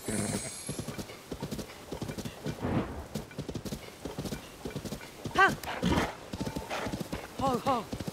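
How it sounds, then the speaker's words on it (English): Horse hooves clip-clop in The Legend of Zelda: Tears of the Kingdom, a brisk, uneven run of close hoof beats with a horse's whinny rising midway, while a person talks over much of it. "Hopefully horse hooves count as a drum-like sound."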